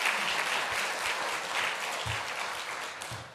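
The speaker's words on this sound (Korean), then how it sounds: "우리 한번 감사의 박수를 한번 올려드리면 좋겠습니다" A church congregation at a Sunday evening teachers' dedication service bursts into sustained applause, dense clapping filling the hall at steady volume before easing off at the end.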